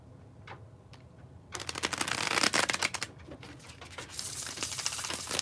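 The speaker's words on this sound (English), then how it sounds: "Alrighty, here it is. The bridge shuffle." Tarot cards riffled in a bridge shuffle, giving a quick burst of dense crisp fluttering clicks near the mic, followed by a softer cascade as the cards settle.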